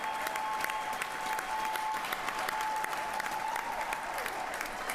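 Sustained crowd applause in the Georgia State Capitol during a memorial honoring civil rights leader C.T. Vivian, a continuous even wash of clapping at moderate level with a little cheering mixed in.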